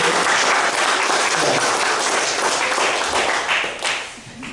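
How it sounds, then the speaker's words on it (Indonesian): A church congregation at a Baptist Sunday service claps together, a loud dense burst of many hands that tapers slightly near the end. "Tepuk tangan dulu"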